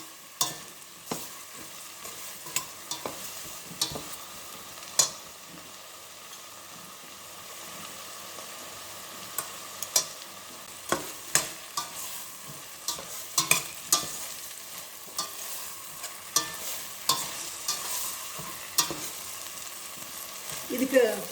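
Chilli powder and vegetables frying in oil for vegetable upma, a soft continuous sizzle under repeated clinking scrapes of a spoon stirring in the pan, heard close and alone.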